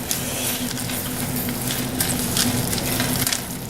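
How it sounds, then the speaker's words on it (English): Peas and corn are stirred with a spoon into a hot pan of cottage pie filling, a steady sizzle and fry with soft scraping stir sounds throughout. "I'm gonna stir this in now. With a spoon."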